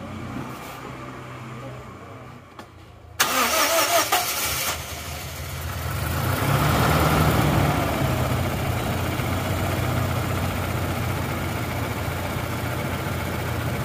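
A Toyota Innova petrol engine that has run out of radiator coolant cranks briefly and fires up, then settles into a loud, steady idle close by, with a voice speaking over it.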